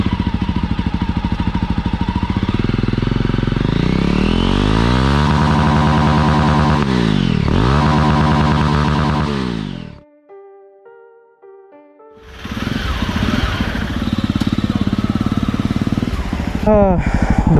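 A Jawa Perak BS6 motorcycle engine revs up and down through gears at close range, with rising and falling pitch sweeps, a brief drop-out in the middle, then loud riding engine noise again.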